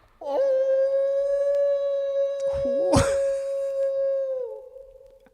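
A single long, steady howl rises, holds a sustained tone for several seconds with a brief wavering break, then fades down.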